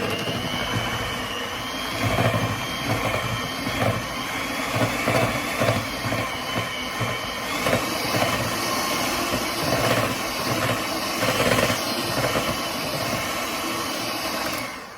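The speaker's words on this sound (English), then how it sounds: "So I'm just going to whisk this together now, nice and gently." A whisk mixes butter, icing sugar and cinnamon gently in a bowl, making a steady whirring buzz with faint rhythmic pulses throughout.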